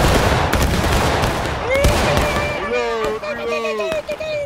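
Musket volley fire in a war video game crackles from 0 to about 2 s: a rapid, dense burst of shots, loud and close, then a lingering rumble. A sustained shout-like tone with harmonics rises over the fading fire.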